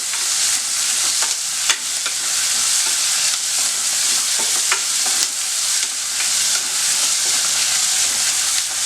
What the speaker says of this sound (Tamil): கொத்தமல்லி இலை, வெங்காயம், இதை நல்லா வதக்கிக்கணும்.